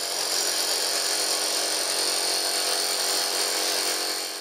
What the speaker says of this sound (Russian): Звук перфоратора его умиротворяет